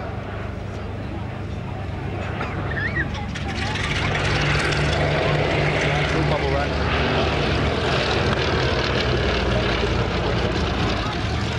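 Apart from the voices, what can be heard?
vintage propeller aircraft, Westland Lysander or Consolidated Catalina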